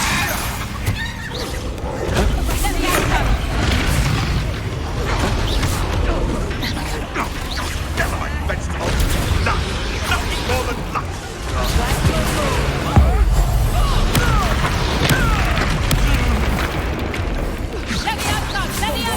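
Hogwarts Legacy combat is loud and dense, with Bombarda blasting spells exploding among continuous crashes, booms and shattering debris, while voices speak over the action.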